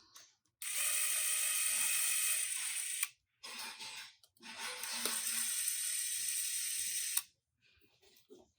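Fender Noiseless Strat V4 pickups being tightened down with a power driver, two long steady whirring runs of a few seconds each, separated by a short pause, close and alone with no voices.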